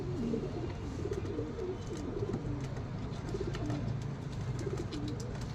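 Several pigeons kept for sale coo repeatedly in soft, rolling phrases against a constant low background hum, with faint scattered clicks and rustles nearby.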